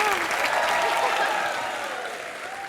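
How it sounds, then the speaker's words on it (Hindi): Dense applause from a crowd, steady and loud throughout, with cheering voices mixed in and tapering slightly toward the end. "जोरदार तालियां हो जाएं"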